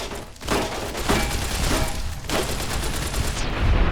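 Heavy hunting shotgun blasts in Fallout: New Vegas combat, a few loud booming reports spaced about a second or two apart with dense noisy game ambience between, and no one speaking.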